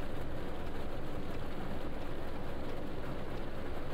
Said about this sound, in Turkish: Kırmızı ışıktayız, bir de yağmur yağıyor.